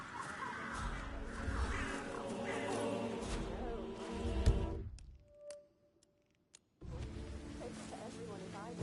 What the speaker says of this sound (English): It's the birds. They're making a racket gossip everywhere.